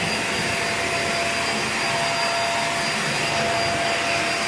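A Hoover React Professional Pet cordless vacuum cleaner runs continuously with a loud, steady broadband roar and a thin high whine, close to the microphone, with no speech.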